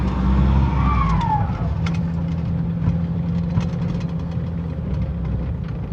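A Toyota Hilux with a diffuser and exhaust comb fitted runs steadily, giving a deep, continuous exhaust rumble close by, with a brief rising whistle early on.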